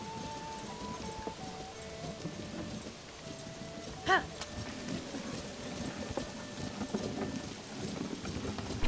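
Horse hooves clip-clop steadily at a moderate volume in the video game Tears of the Kingdom, mixed with background game sounds and a brief sharp chime midway, while people talk over it.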